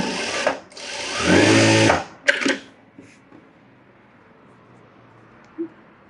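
Sewing machine stitching an edge seam on blouse fabric: a couple of short whirring bursts of stitching, close and fairly loud, then a quiet pause with one faint click.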